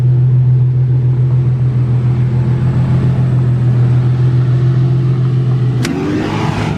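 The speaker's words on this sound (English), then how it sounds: "we're gonna go ahead and get a few flybys so you can see how loud this thing really is" A Nissan GTR fitted with a custom exhaust drones loudly and steadily nearby, then a sharp crack marks a change as the engine note shifts near the end.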